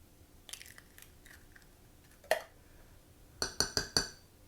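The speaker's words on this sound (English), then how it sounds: "I'm going to add my 4 eggs" Eggs are cracked against a bowl edge into pumpkin cake batter: soft taps and clinks, a sharper crack midway, then four quick, bright glassy knocks in a row, close and fairly quiet.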